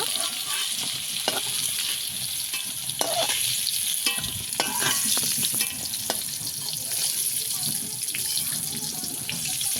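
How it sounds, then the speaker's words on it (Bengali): Pieces of young jackfruit fry in hot oil with a constant, fairly loud sizzle, broken by sharp clicks and scrapes of a utensil stirring and lifting them. "এঁচড়টা আমি এইভাবে ভেজে নিয়েছি, তুলে নেবো।"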